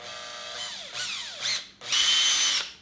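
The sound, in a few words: power drill drilling slowly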